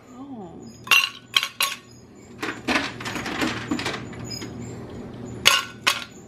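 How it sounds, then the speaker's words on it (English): Ice cubes dropped one after another into Tervis, YETI and Styrofoam cups, a series of sharp clinks and clattering knocks, some close and bright, with a short spoken remark partway through. "put like 6 ice cubes each in each of these cups"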